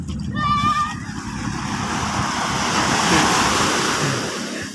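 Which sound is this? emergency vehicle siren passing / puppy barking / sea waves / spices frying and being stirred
sea waves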